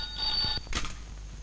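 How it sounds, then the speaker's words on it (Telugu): A telephone rings briefly in a Telugu film scene: a short, bright electronic trill lasting about half a second, followed by a soft knock over a quiet room hum. "ఫోన్ కూడా మోగింది"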